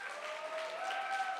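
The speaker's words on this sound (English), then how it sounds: "So give them a round of applause," Soft, distant applause from a crowd, a steady patter of clapping with a faint tonal hum running through it.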